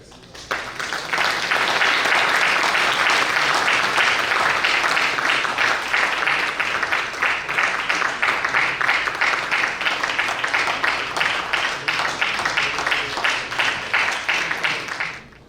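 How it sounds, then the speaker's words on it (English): A banquet audience at a twentieth-anniversary award night gives sustained, loud applause, many hands clapping together for about fifteen seconds before it stops abruptly. "I think we should really give these 2 gentlemen a tremendous round of applause"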